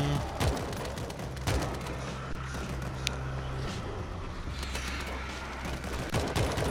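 Gunfire in the zombie shooter World War Z, Jerusalem level: rapid bursts of automatic weapon fire repeating across the clip over a steady low rumbling game background, fairly loud and close.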